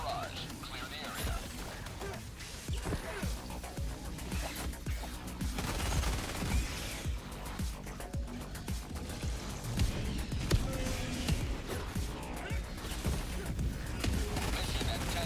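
Orbital barrage explosions pound the battlefield in Helldivers 2, a dense, sustained roar of blasts and gunfire-like cracks rumbling continuously with heavy low-end impacts, while a voice talks over the chaos.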